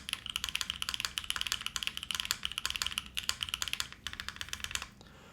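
Rapid, clicky keystrokes on a Luminkey75 mechanical keyboard rattle close by in quick bursts with brief pauses, then stop near the end.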